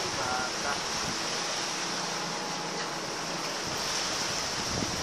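Rough sea seen from a merchant ship with waves of six to eight feet, a dense continuous roar of rushing water and wind, loud and steady without distinct breaks.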